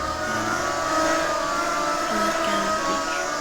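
Car engine from a Minecraft mod in a video game, a steady whirring drone with rising revving tones, continuous and close, with no talk.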